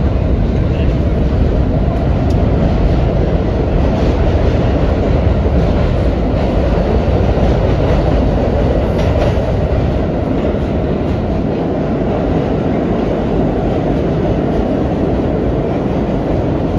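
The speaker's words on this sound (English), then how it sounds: "I hear the work train running" A New York City subway work train rumbles steadily nearby, a continuous low mechanical roar with faint rail clatter that holds constant throughout.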